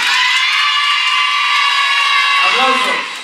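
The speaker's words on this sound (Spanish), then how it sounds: "¡Aplausos!" A crowd at a children's day event in Bicentenario plaza, Tuluá, cheers loudly with high-pitched children's shouts and whoops, a continuous roar that fades toward the end.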